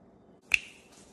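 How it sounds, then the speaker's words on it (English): A single sharp finger snap, crisp and close in an otherwise quiet kitchen, with a brief ringing tail after the crack. "now just snap your fingers"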